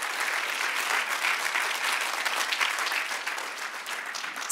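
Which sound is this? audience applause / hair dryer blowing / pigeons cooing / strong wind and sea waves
audience applause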